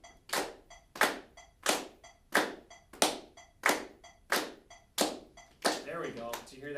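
A group of people clap together in unison during a class session, about nine sharp synchronized claps in a steady beat, each loud and crisp, ending with a looser burst of scattered clapping.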